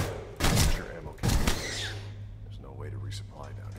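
Two loud bursts of rapid gunfire from the video game Aliens: Colonial Marines, each under a second long, followed by quieter game ambience with a voice talking.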